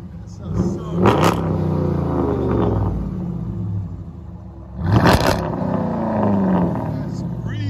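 A 2012 Jeep Grand Cherokee with a 5.7L HEMI V8 and dual Flowmaster Outlaw exhaust revs up twice, deep throaty bursts rising sharply then settling to a low burbling idle, recorded close outdoors.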